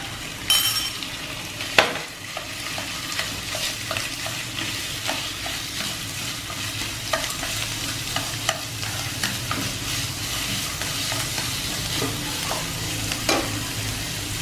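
Minced lean pork frying in hot oil with scallion whites, a steady sizzle running throughout with repeated clinks and scrapes of a utensil stirring the pan, close and alone.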